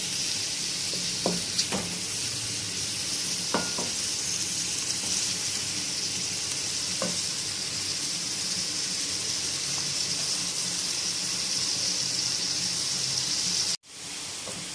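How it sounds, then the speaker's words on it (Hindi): Sliced onions fry in a cup of oil in a kadai, giving a continuous, even sizzling hiss, close and moderately loud. A few faint utensil clinks come early, and the sound cuts off abruptly near the end. "उसके अंदर हमने 1 कप ऑयल ऐड किया है और यहाँ हमारे पास 2 बड़े प्याज स्लाइसिस में कटे हुए ऐड करेंगे और इनको गोल्डन कर लेंगे"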